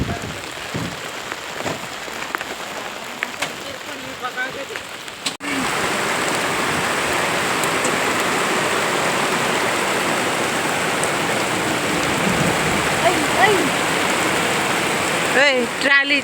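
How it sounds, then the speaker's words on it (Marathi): Heavy rain pours down in a steady, loud hiss on a farm during the monsoon, starting after a quieter opening and continuing unbroken to the end. "येथे आता पाऊस जोराचा पाऊस झालेला होता"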